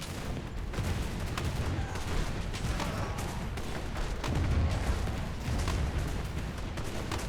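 Ship-mounted lasers fire in an aerial battle in Airships: Conquer the Skies. A rapid, continuous crackle of shots rolls on with heavier thumps and bursts, fairly faint and steady across the whole stretch.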